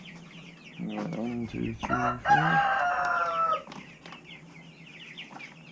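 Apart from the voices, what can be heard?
chickens clucking on a farm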